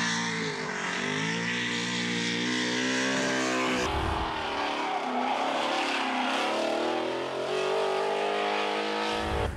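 A naturally aspirated 850 hp Subaru BRZ engine revs hard and loud, its rising harmonic whine climbing repeatedly in sharp bursts with brief drops between, close and alone with no talk.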